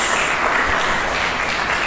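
A church congregation at an Indonesian-language service claps for two seconds in a steady, even wash of applause. It sounds fairly loud and close, with no voices over it.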